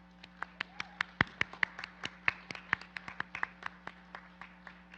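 Sparse clapping at a Native American honoring ceremony for former student association officers, a few hands giving distinct, evenly spaced claps close by, fairly quiet against a low steady hum.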